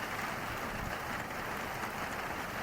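Rain falling on a tarp during a long-distance hike across New Zealand, a dense, even hiss of drops pattering steadily throughout at low volume, with no talking.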